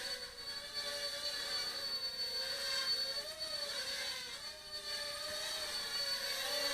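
A Tactic remote-control helicopter flies in 3-axis mode, giving a steady, fairly loud whine of rotor and motor that holds throughout with a slight wavering pitch, no voices present.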